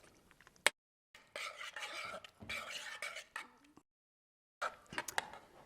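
Spaghetti with a cheesy sauce is stirred in a pot, soft scraping and shuffling bursts broken by silent gaps, plus a sharp clink of utensil on metal near the start.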